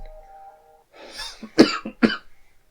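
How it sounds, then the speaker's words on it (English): A couple of sharp, close coughs follow a brief hum and a breathy throat sound, ending in quiet. "darn cough, I'm talking too much"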